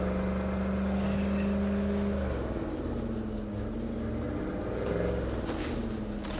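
A car engine drones steadily while driving in State of Decay 2, with the pitch dipping and rising as the vehicle shifts speed, continuous and fairly close.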